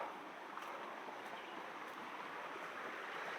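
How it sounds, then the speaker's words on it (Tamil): Water runs in a mountain stream on a hillside trekking trail at Sathuragiri, a soft, steady rushing wash that stays even and continuous with no voices. "இந்த சைடு நீரோட வந்துக்கிட்டே இருக்கு தண்ணி"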